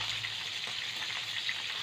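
Fish heads frying in a pan of hot oil, giving a steady, dense sizzle that stays loud and even throughout with no voices.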